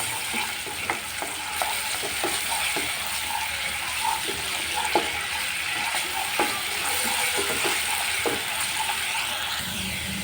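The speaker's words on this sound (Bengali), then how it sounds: "আর এখন আমি খুবই সুন্দর করে নাড়াচাড়া করে হালকা বাদামি কালার করে খুবই সুন্দর করে ভেজে নিতে হবে" Onion paste for a home-style fish curry stirs and fries in a pan, a steady broadband sizzle with repeated soft scraping clicks from the spoon, close and continuous with no talking.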